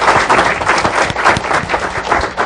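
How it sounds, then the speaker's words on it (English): An audience at an event applauds steadily, a close, dense burst of many hands clapping throughout. "So let's give another round of applause,"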